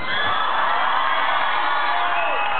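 Crowd cheering and whooping with applause on a beach, a dense, steady roar of many voices throughout, loud and close, with excited shouts rising above the mass.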